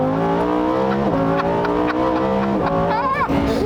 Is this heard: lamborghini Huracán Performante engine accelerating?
yes